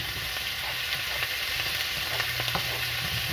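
Carrots sizzle steadily in oil in a stir-fry pan, a loud, dense crackle with faint scrapes of stirring.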